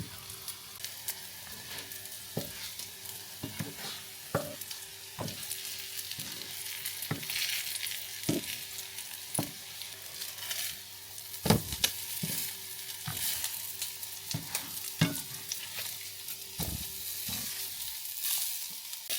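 Salmon patties sizzle in hot oil in a pan, a quiet steady crackle broken by sharp scrapes and taps of a utensil at irregular intervals.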